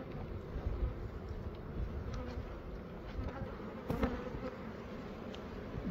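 Angry bees swarm and buzz around a large aggressive hive in a roof, a dense, continuous drone close to the microphone with light wind rumble and no speech.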